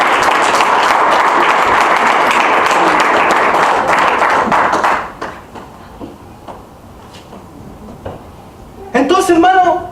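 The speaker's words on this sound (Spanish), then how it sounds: "Aleluya, denle un aplauso al Señor" Church congregation applauding loudly and steadily for about five seconds, then fading into a quieter room with scattered sounds, before a short burst of voices or clapping returns at the end.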